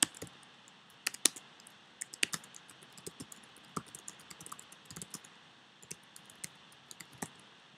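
Keys on a computer keyboard tapped in short irregular bursts of crisp clicks, fairly close and moderately quiet, with no talking.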